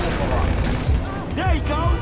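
Gunfire from a gun in GTA V during a getaway, bursts of shots and booms mixed under ongoing talk.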